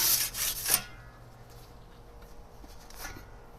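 Semolina is rasped off a pizza peel in a short burst of close, dry scraping strokes that stops after under a second, followed by faint room hush and a soft rub.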